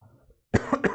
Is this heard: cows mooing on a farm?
no